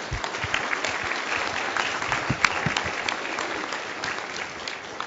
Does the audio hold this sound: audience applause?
yes